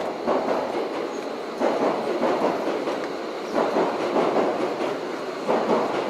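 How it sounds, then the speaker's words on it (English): A train rumbles past overhead near the old Kozukappara execution grounds in Tokyo, a steady broadband roar with rhythmic surges of clattering wheels, fairly loud and continuous, with no talking. "Now the train going overhead"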